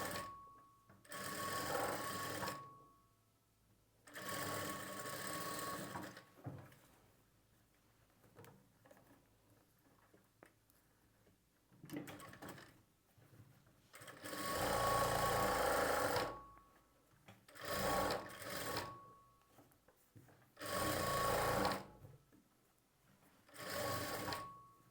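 A sewing machine stitches a sleeve onto a blouse piece, running in several loud bursts of rapid whirring, with quiet pauses between runs and no talk.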